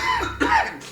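A person coughs twice in quick succession, close and loud, with short harsh bursts and no speech.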